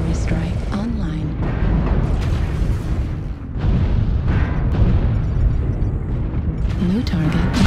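Artillery strike explosions in the mech combat game MechWarrior Online, deep rumbling booms rolling one after another amid battle noise, with a synthetic announcer voice speaking over them.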